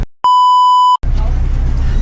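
A single loud, pure censor bleep lasts under a second, then cuts to a noisy, rumbling background.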